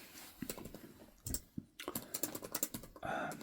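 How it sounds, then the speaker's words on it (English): Notes are typed on a keyboard during an ASMR medical checkup roleplay, with soft, close clicking keystrokes in short uneven bursts and no voices. "So I'll just write a few notes here"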